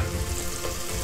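Ginger garlic paste and spices frying in a pan for Nepalese dal bhat, a steady close, loud sizzle as the food is stirred.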